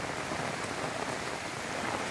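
Heavy monsoon rain in Konkan, at Rajapur near the flooding Arjuna river, a dense, constant roar of rain pouring on surfaces, loud and unbroken, with no voices.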